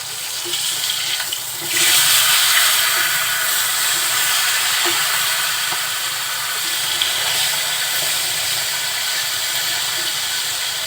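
Fish heads fry in hot oil for a fish-head and Malabar spinach dish, giving a steady, loud crackling sizzle that swells after the first two seconds and holds with small pops, no voices.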